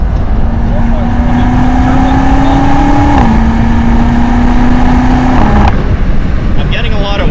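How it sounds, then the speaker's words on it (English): A V8 twin-turbo car engine accelerates, a loud steady drone climbing in pitch through gear shifts with heavy wind noise, recorded from inside the car. "So this is a V8 twin turbo?"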